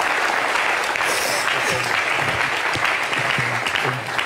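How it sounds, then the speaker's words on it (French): An audience applauds Richard with sustained, even clapping across four seconds, moderately loud and close. A low voice murmurs beneath the clapping in the second half. "On peut applaudir Richard."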